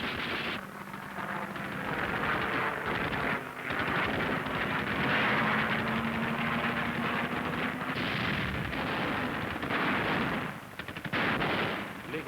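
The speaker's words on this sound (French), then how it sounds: "L'aviation russe est prise à partie par la DCA." German anti-aircraft guns fire at Russian aircraft in a continuous, dense barrage of overlapping bursts and booms, loud and unbroken throughout with a rough, rumbling texture.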